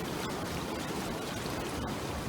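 Water pumped from the RAS pumps flows through the RAS channel of a wastewater treatment plant, a steady, moderately faint rushing and churning with no voices.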